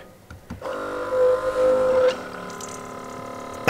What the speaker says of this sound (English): hands-free water coming out of this sink here in a second